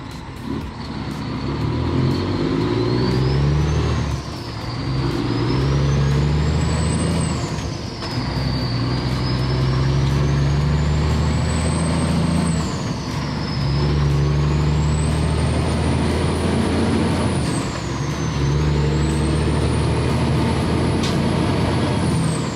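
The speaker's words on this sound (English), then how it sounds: "I get to listen to hydraulic booster all the way." A truck cab while driving, its engine rumbling steadily and loud throughout, with a high whine from the hydraulic brake booster repeatedly sweeping up and down above it.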